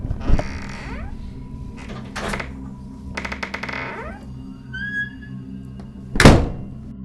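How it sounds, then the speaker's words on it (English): A door slams shut with a heavy thunk near the end, preceded by creaking and rattling mechanism sounds, all close and fairly loud. "Sound number 2 is of a slamming door."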